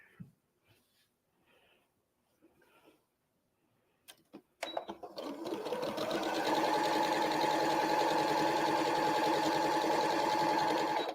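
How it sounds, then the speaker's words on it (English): Sewing machine stitching a quilt seam, starting up after a few soft handling rustles and then running steadily and loudly with a continuous whirring hum. "I'm going to sew right along here"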